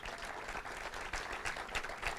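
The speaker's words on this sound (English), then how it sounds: "so give him another round of applause." A crowd applauds at an outdoor stadium statue opening in Detroit, giving a sustained round of clapping from many hands, moderately distant and fairly soft, with no talk over it.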